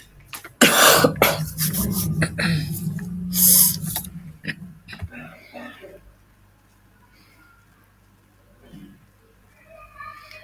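A person coughs hard several times in quick succession at close range, then the sound trails into quieter rustling and faint background noise.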